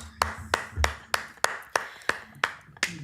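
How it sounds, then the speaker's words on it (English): Sharp, evenly spaced claps from a courtroom audience at a sentencing hearing, about eight distinct crisp hits roughly a third of a second apart, close and fairly loud, with no talking. "They fucking clapped, dude."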